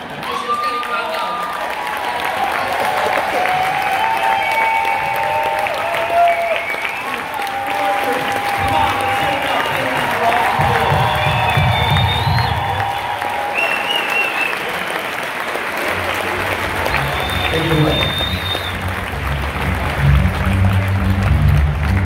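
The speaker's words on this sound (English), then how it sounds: "I was shook by the thunderous applause, by the stomping of feet" Thunderous applause fills an auditorium, a dense and loud roar of clapping throughout, with heavy low thuds of stomping feet in several stretches.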